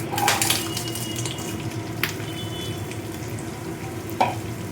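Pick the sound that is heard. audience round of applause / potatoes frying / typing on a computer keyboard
potatoes frying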